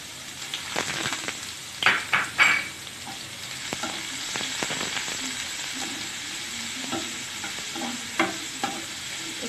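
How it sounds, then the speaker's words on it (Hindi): Chopped onion and cumin frying in hot oil, a steady soft sizzle with scraping stirs and a few louder clatters of a spoon against the pan, close and without talking. "इसको हल्का फ्राई करना है प्याज फ्राई हो गई है"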